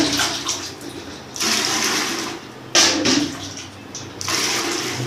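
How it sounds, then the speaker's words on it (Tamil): Water poured from a mug into a bucket while washing clothes, in several separate gushing splashes with short pauses between pours, close and fairly loud. "4 மக் தண்ணி ஊற்றிக்கோங்க."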